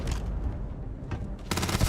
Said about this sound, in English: Let's try this gun.